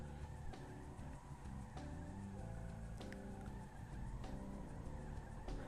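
In GTA Online, a Dubsta 6x6 spins all six wheels against the heavy Liberator monster truck, giving a steady loud engine roar with continuous tire squeal and skidding that doesn't let up.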